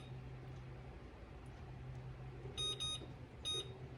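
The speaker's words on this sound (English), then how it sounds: "I'll set my timer for 15 minutes" A kitchen timer being set gives a few short, bright electronic beeps in two quick bursts and then one more, standing out over a low steady hum from a stovetop.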